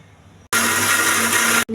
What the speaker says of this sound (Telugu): మిక్సీ వేయాలి.